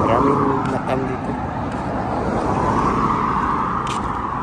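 Steady road traffic in Kaitan, Kuwait, a continuous wash of passing cars and engine noise at moderate distance, with voices talking over it throughout.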